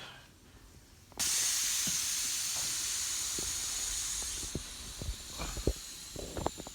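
Air rushes out of a tire's open Schrader valve during a DIY tire mounting on a rim, a loud sudden hiss that starts abruptly and holds steady, with scattered knocks and thumps around it.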